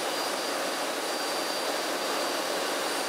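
Inside a Jet Provost JP5 jet aircraft in flight, a steady, dense broadband jet engine roar with a faint high whine holds constant and loud throughout, without voices.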